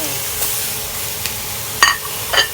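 Catfish pieces hit a hot pan of fried Thai curry paste with eggplant, giving a steady close sizzle that flares into two brief louder hisses near the end.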